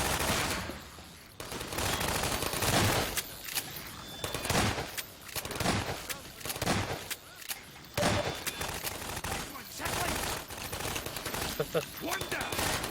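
Automated turrets in Half-Life 2 Episode 2 fire in repeated rapid bursts, dense loud gunfire in waves with brief gaps between volleys, continuing throughout.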